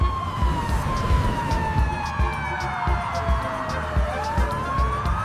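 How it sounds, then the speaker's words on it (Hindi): Ambulance siren wailing loud and close, a steady rising-and-falling electronic tone held throughout over a rumbling traffic-like background. "देखो एम्बुलेंस।"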